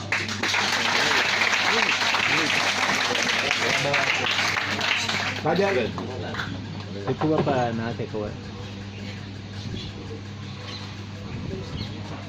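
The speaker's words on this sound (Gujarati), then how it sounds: "ફરીથી જોરદાર તાળીઓથી વધાવીએ" A crowd claps loudly and steadily for several seconds, then the applause fades to a quieter patter as a voice begins talking over it.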